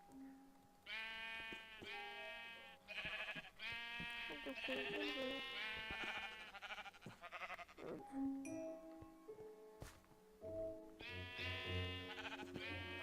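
Sheep in the Minecraft survival video game bleating repeatedly, a string of loud, close, wavering baas that overlap at times, with a voice talking between and over them.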